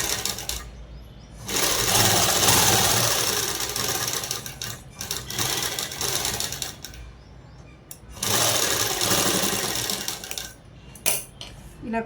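A sewing machine stitches a blouse collar onto canvas, running in long, close bursts of busy mechanical clatter that pause briefly before the machine starts up again.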